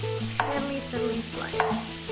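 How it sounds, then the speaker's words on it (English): Knife thinly slicing raw red onion on a board in a kitchen, a few crisp cutting taps spaced apart amid steady background cooking noise. "We're gonna thinly slice this since we're eating it raw."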